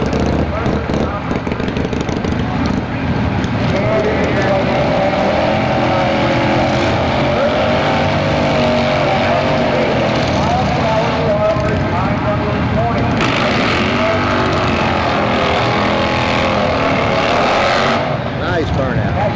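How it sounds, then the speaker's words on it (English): Car doing a burnout at a drag racing event, a loud sustained engine roar and tire noise running the whole time with a crowd and announcer talking over it. "Nice burnout."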